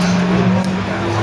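A BMW 325 rally car with a 2.5 straight-six engine holds a loud, steady, buzzing drone at a stage rally, close and continuous with no break.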